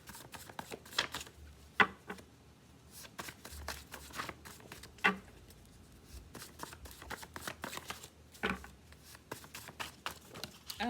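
Tarot cards being shuffled in repeated quick riffling bursts at close range, crisp papery flutters and taps recurring irregularly, with no talk.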